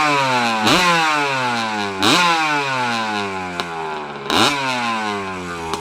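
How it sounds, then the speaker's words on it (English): A classic 1983 Yamaha YZ100 dirt bike engine revs up close and loud in three sharp blips. Its pitch climbs with each blip, then sags back toward a raspy idle between them, with no voices over the engine. "Check out this classic 1983 Yamaha YZ100."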